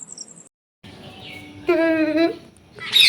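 Short bright bird chirps ring out close by, with a harmonic call in the middle and a sharper burst at the end, over faint background noise.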